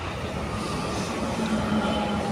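A train passing near a day-ticket carp fishing lake, a steady broadband rumble and rush that builds slightly and holds for a couple of seconds with no talk.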